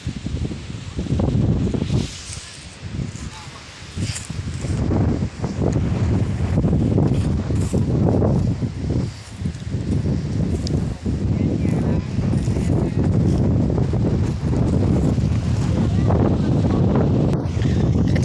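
Strong wind buffets the microphone throughout, a loud continuous low rumble with gusty surges, and voices talk over it at times.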